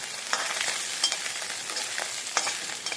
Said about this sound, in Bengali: এই 3 কাটা মাছ এই যে ব্যাচ করে ভেজে নিচ্ছি